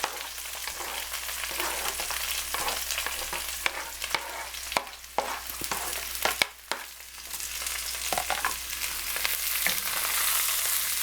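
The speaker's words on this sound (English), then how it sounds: "And you let that saute for a while." Browned ingredients for a Calabrese pasta al forno sauté in a pan on medium heat, making a dense, steady hiss broken by frequent sharp crackles and utensil scrapes close by.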